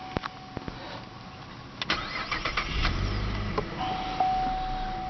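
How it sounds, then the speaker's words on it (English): A 2008 Cadillac CTS with about 9,100 original miles cranks and starts, settling into a steady idle after a few clicks and the catch of the engine, heard close and alone. "Starts up beautiful."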